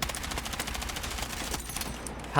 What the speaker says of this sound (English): The guns are fun, We go to the firing range here to show you guys.